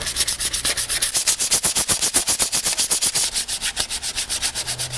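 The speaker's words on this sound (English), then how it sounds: "I'm also going to use my trusty sandpaper to scuff up the areas that got paint on them" Sandpaper scuffs painted metal on a Ford Fox Body frame-connector area, a steady rapid back-and-forth rasp of about five strokes per second, close and loud, with no talking.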